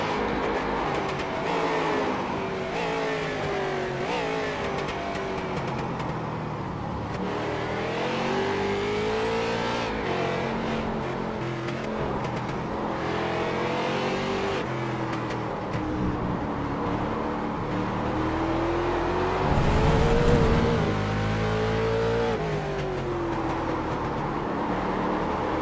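Onboard a race car lapping a tight infield section at the Race of Champions, the engine roars loud and close throughout, revving up and down through rapid gear changes with no voices.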